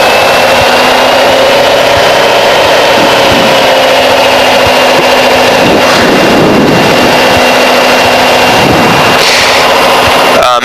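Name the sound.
Cessna 185 piston engine run-up to 1700 RPM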